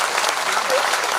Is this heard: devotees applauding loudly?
yes